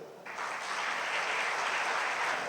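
Audience applause at a formal French gathering, swelling in sharply after a brief quiet start and then holding as a steady, dense wash of many hands clapping with no voices over it.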